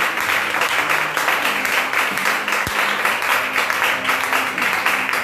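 A church congregation claps and cheers in acclaim during a prayer service, dense sustained applause filling the room at a loud, even level throughout.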